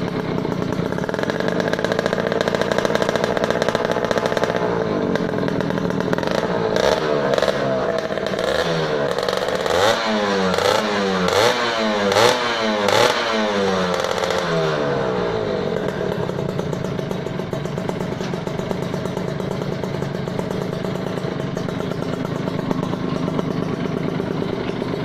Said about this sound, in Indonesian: Knalpotnya sesuai nama kantor, DBS. Kenyah, knalpotnya suaranya kenyah.